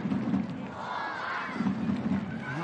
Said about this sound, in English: here the young supporters in the crowd chanting Slovan, trying to encourage their team to get themselves level